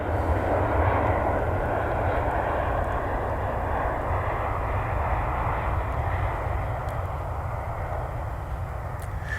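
Steady, broad roar of a United Airlines Boeing 757-300 jet airliner passing at a distance, sustained and even throughout with no voices.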